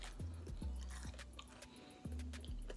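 Wingstop chicken wings being chewed during a mukbang, with close, wet crunching bites in three quick bursts separated by brief pauses and no talking.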